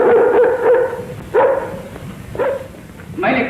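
A dog inside a house gives three or four short, separate barks and yelps from a classic Hindi film scene, spaced about a second apart against a quiet room.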